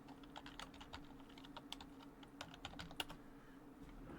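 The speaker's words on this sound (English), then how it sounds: "Read out while I'm typing this." Soft typing on a computer keyboard, a quiet run of uneven close clicks and taps at a low level over a faint steady background hum.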